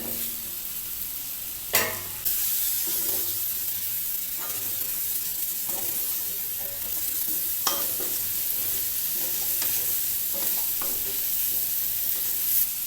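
Tomato and drumsticks sizzle and fry in a pan for a drumstick masala, with steady hiss and repeated scraping stirs throughout.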